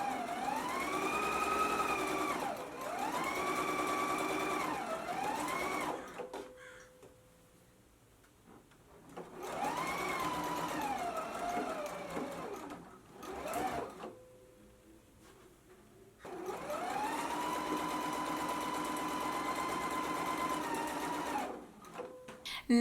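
A domestic sewing machine stitches a 5/8-inch seam on a dress facing in three long runs, each a fast, even whir with a motor hum, separated by quiet pauses and a few brief clicks.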